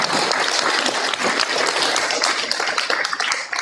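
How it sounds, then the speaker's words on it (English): Parents and attendees at a school board meeting give a warm, continuous round of applause for the students of the month, dense clapping close and steady throughout. "Let's have a round of applause for all the students of the month"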